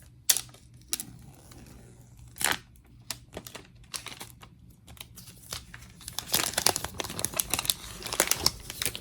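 Close crinkling and tearing of plastic wrap being removed from a phone box, with scattered crackles and soft taps, growing busier and louder toward the end.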